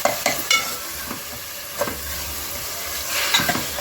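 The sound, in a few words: tomatoes cooking and stirred in pan for mutton curry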